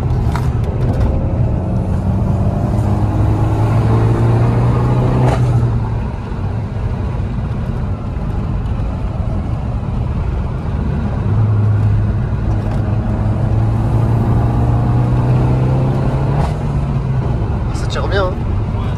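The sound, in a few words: Peugeot 308 GTI engine accelerating in sport mode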